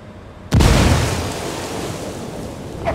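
A frag grenade detonates in the shooter game Ghost Recon Wildlands: a single sudden loud boom after half a second of quiet, trailing off into a long rumbling decay.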